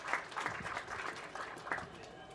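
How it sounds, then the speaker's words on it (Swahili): Audience applause at a SUMAJKT Marathon event gathering: a crowd claps steadily for a couple of seconds, a dense, continuous patter with slight surges. "Tuwapigie makofi sana wote tuliochangia hii."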